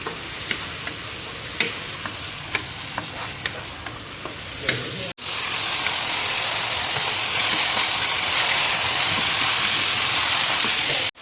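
Tomatoes frying with chillies in oil in a pan for dhaba-style mash daal, a light crackle with occasional clinks at first, then a sudden loud, steady sizzle and hiss that fills the rest.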